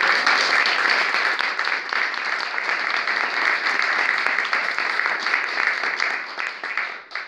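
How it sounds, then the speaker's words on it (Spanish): A crowd applauds at a human rights event in Córdoba, sustained and loud, many hands clapping evenly for several seconds before tapering off at the end. "pido un fuerte aplauso"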